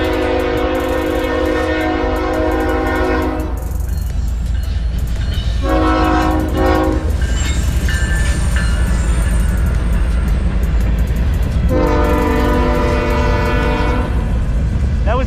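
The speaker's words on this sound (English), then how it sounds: "That was the smallest train I had seen." A train rumbles past close by with a steady roar, sounding its horn in long blasts at intervals.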